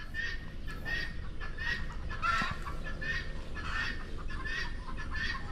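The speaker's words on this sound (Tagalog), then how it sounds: "Ano yung maingay? Ah, bengala!" Several loud, repeated honking calls from a bengala fowl ring out at a steady rhythm, close by on a rural farm with papaya plantings, rising over a constant background hiss with no talking.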